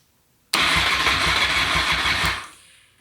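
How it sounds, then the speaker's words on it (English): Honda VFR 800 motorcycle engine cranking over on the starter without firing, since no fuel tank is fitted. It is a loud, steady, rapid churning whir that runs about two seconds and then winds down. "It will fucking crank though."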